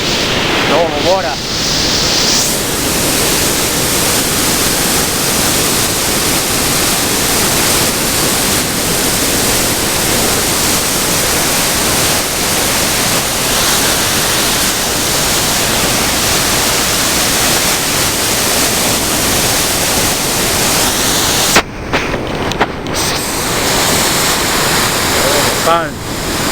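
Water rushing through Yarrawonga Weir below a bridge, a loud, broad, continuous roar heard close and steady, briefly disturbed near the end.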